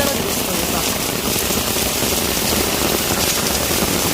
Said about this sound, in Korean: 비가 엄청 오면서 우박이 떨어지고 있어요.